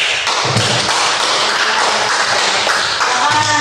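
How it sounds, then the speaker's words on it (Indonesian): Students in a classroom applauding a presenting group, a brisk, close burst of many hands clapping with taps and thumps throughout, voices faintly underneath. "Silakan diberikan aplaus"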